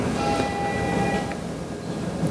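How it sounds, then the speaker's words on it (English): A passing train rumbles along with a steady mid-level roar, and a faint sustained horn-like tone appears briefly early on, with no voices. "Trains coming through."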